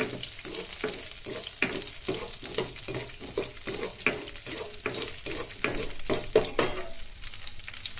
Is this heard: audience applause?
no